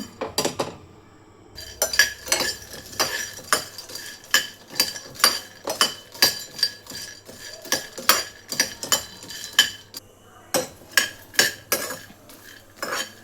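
Peanuts dry-roasting in a pan are stirred with brisk, rhythmic scrapes and clinks of a metal spatula against the pan, close and clear, with no talking.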